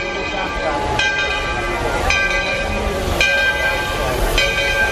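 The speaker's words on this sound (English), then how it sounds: "Oh, the train's coming in." A train pulls in at the Magic Kingdom station in Walt Disney World, with a loud continuous rumble and hiss and repeated bright metallic squeals from the wheels.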